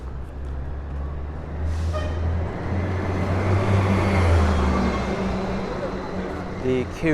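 A Q33 city bus rumbles past on 82nd Street in Jackson Heights, Queens, its loud low engine drone joined by a sharp air-brake hiss and squeal, while someone talks over the street noise.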